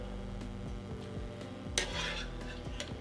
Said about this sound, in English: I'm gonna scoop out all of the veggies here.